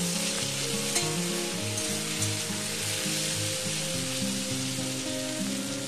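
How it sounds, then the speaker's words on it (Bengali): Snake gourd fries in a pan over a medium gas flame, giving a steady, close sizzle that runs unbroken throughout, with soft background music underneath. "প্রায় আমার চিচিঙ্গি ভাজা হয়ে এসছে।"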